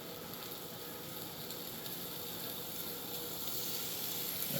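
Flank steak searing in hot avocado oil in a pan, giving a steady, even sizzle with a faint fine crackle that holds at low level throughout, with no voices.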